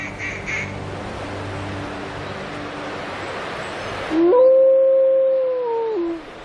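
A female black wolf in the wild gives a single long, clear howl that rises, holds a steady pitch and then falls away. It is close and loud, and it comes after a few seconds of breathy background noise.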